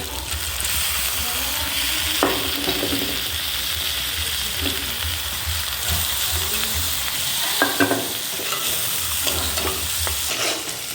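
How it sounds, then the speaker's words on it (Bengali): Washed red lentils (masoor dal) fry with spices in a pan, a continuous close sizzle under repeated scraping stirs and occasional louder bursts of spatter, with no voices. "ডাল আর মশলা কষা হয়েছে"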